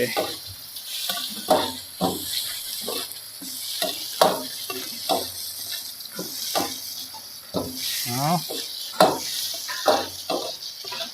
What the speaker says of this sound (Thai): พริกสด ตำครับ แดงที่ตำไว้ครับ ผัดให้หอมเลย